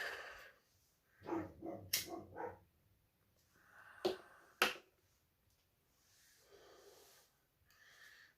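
A dog gives a few sharp barks and snorts in short bursts, with long quiet gaps between them, heard close by in a quiet room.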